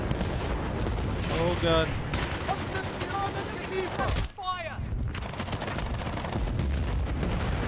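Dense, continuous gunfire and explosions rage in the Battlefield: Bad Company campaign, loud and sustained throughout, with a brief dip near the middle, while a player exclaims over the battle.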